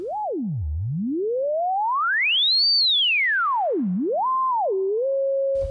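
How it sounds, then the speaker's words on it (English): An Electro-Smith 2144 four-pole low-pass filter kit, resonance at maximum with no input, self-oscillates as a pure sine tone that sweeps low, glides high, dips, then settles into steady pitches, loud and alone. "I can even remove the input here and our filter becomes a sine wave oscillator all by itself"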